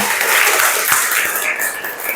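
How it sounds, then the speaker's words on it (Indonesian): A classroom group gives loud, dense, continuous clapping for group 3 during a teacher performance assessment session, brief and close. "Tepuk tangan untuk kelompok 3"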